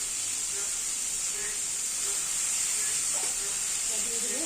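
Bombay duck fish hissing and sizzling in a hot pan, a steady bright frying hiss throughout with faint kitchen clinks and a brief voice near the end.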